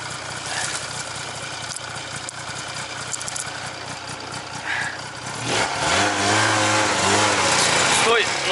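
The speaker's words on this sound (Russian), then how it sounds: "Ты подгазовывай, я буду тянуть лыжу. Чтоб по чуть прям газуй." A BRP Scandic 550 snowmobile sits at idle under outdoor talk, then its engine revs up near the end into a loud sustained drone with rising and falling pitch.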